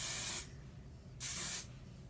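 Two bursts of ultra strong hold hairspray, each a loud, close hiss of about half a second with a brief pause between.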